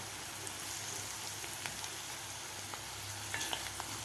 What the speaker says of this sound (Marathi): आता लसूण आणि कांदा आपल्याला चांगला दोन मिनिट थोडासा असा गोल्डन कलर होईपर्यंत परतून घ्यायचा आहे